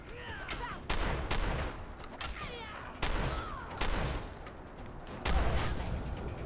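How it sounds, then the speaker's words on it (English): Fallout 4 combat in which a Fat Man nuke launcher is aimed at the player: a run of loud, sharp gun blasts and heavy thuds spaced a second or so apart, with echoing tails over low background rumble. "someone's shooting a fat man at me"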